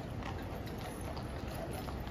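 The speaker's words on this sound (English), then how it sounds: "Look at these incredible, majestic horses." Mounted Guards horses walking on a London street, hooves clip-clopping steadily and continuously at close range under a broad outdoor crowd murmur.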